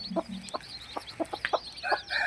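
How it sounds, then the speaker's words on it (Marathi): Several native village (gavran) hens clucking nearby in short, uneven bursts, with a few higher squawks toward the end. "अशा पद्धतीने गावरान कोंबड्या आपण पाळतो"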